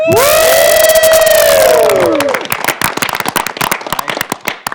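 An audience at a university code-a-thon event whoops and cheers loudly at first. Sharp, scattered claps and crowd noise follow as the cheering fades.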